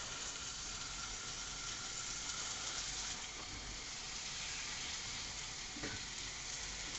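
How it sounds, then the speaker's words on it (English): Lamb for Irish stew sizzles in a pan, a continuous close, bright crackling hiss with small pops and a brief scrape near the end, without speech. "you can actually hear the sizzling as it goes down"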